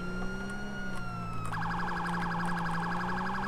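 A police car siren in the GTA 5 LSPDFR police mod sounds loud and close. A long wail sweeps up and down, then switches partway through to a fast, rapid yelp that repeats over a steady engine drone.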